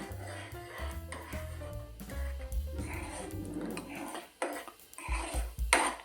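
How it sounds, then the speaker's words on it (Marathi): Khoa being stirred in a pan on a gas stove, with a spoon scraping and clinking against the metal in irregular strokes, close and fairly loud. "ह्याला हलवत राहायचं आहे"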